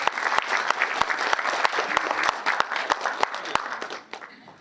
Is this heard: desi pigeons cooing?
no